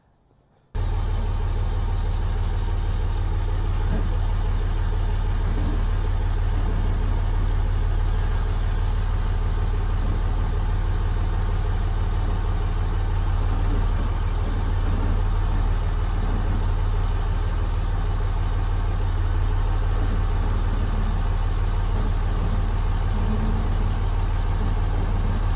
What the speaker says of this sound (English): Let me turn the truck around.